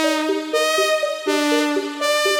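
Synthesized lead and arpeggio recreating a riff: bright, harmonically rich tones stepping in a steady repeating pattern, loud and sustained with no voices.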